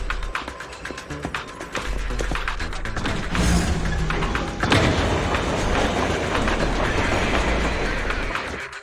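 A train in the video game Zenless Zone Zero starts moving, with mechanical clicks and ratcheting followed by a steady rumbling rail roll that grows louder and continues without speech.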